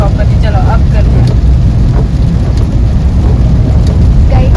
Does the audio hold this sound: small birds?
no